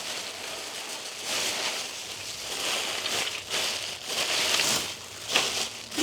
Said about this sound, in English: Sorry for the bag noise.